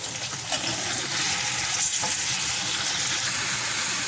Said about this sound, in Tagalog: isusunod natin ilagay yung ginger paste